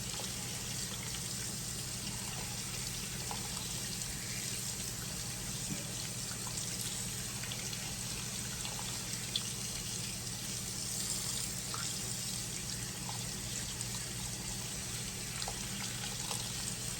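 Steady running water rinses a variegated Philodendron Burle Marx plant, flowing continuously over its leaves and petioles at a constant, fairly close level with no talk.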